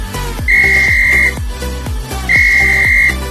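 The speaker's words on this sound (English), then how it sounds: "if you heard me whistling once, that means you can take pictures and roam around" A tour guide's whistle in Vigan City, Ilocos Sur gives two long, steady, shrill blasts, each lasting under a second, over a backdrop of ringing, decaying percussive tones.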